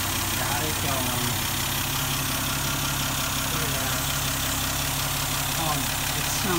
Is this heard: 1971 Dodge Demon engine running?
yes